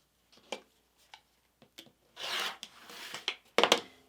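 Quilt block fabric is trimmed by hand, with scattered short snips and rustles followed by a longer rasping cut and a final cluster of crisp crunches, close and quiet with silent gaps between.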